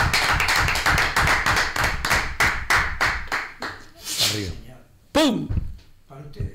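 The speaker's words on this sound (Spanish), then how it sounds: "Un aplauso a todas nuestras mujeres." Audience at a Spanish traditions event applauds for the women, with dense rapid clapping that thins into scattered claps, and a voice speaking over the tail.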